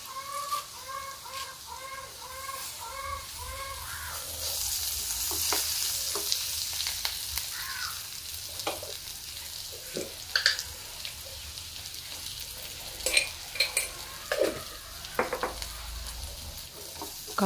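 Curry leaves and half an onion sizzle and crackle steadily in a hot pan, a continuous close frying hiss with occasional sharp pops and stirring clicks, while rooster-like clucks sound briefly near the start.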